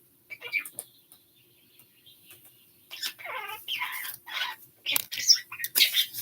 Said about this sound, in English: He's in my face chirping